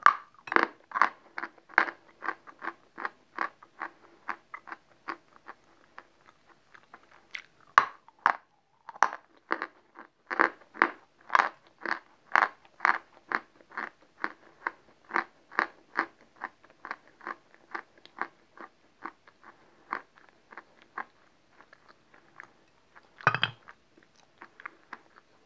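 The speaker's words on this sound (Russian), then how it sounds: "Твердый мел хрустит до конца." Sharp, dry crunches of hard chalk being chewed repeat in a steady rhythm, close and crisp, continuing for a long stretch with a brief louder crunch near the end.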